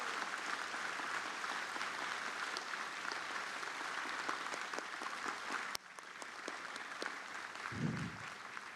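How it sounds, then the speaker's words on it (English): Warm, sustained applause from the crowd at Taiwan's National Day celebration, fairly distant and even, with a brief jolt near the end and a low thump after it. "Please join me in giving them a warm round of applause"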